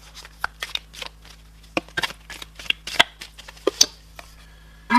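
A deck of tarot cards shuffled by hand, close and crisp: a run of quick riffles and sharp flicks at an uneven rhythm, separated by brief quiet gaps, with no speech.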